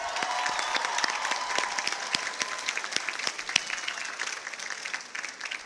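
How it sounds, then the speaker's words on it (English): A large crowd at Loyola Marymount University's 2026 undergraduate commencement applauds the graduates' supporters, a sustained dense roar of clapping with distinct close hand claps that fades near the end. "let's give all your supporters a round of applause"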